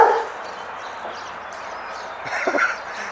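A dog barks outdoors near a fence, a few faint, distant yips and barks over steady background noise, with a slightly clearer burst toward the end.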